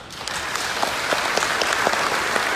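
A crowd at a 2018 company year-end banquet breaks into dense, sustained applause, an even roar of many hands clapping close by with no pauses.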